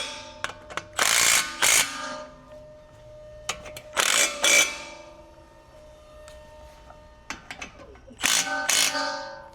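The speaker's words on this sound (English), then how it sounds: "And then I'll get these bolts torqued down." Ratchet wrench torquing bolts on a BMW i3 with a sheared motor mount bolt. Three close bursts of rapid clicking pawl ratcheting, separated by quieter pauses with faint mechanical ticks.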